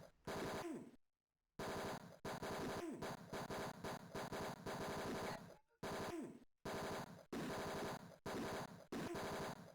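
Rapid bursts of automatic gunfire, loud and close, come in long repeated volleys broken by brief silent gaps, with no talking over them.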